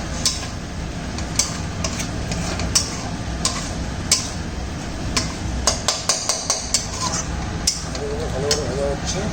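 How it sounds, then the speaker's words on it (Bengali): Potatoes fry in a pan with a low continuous sizzle, punctuated by frequent close, sharp ticks and clinks of a utensil stirring against the pan. A voice speaks over the cooking. "আলুগুলো ভালো করে ভাজা হচ্ছে।"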